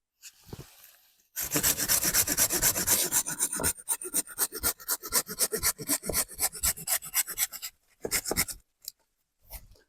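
Rapid rasping strokes of an AIRAJ folding hand saw biting through hazel wood, steady back-and-forth rhythm, close by, pausing briefly near the end.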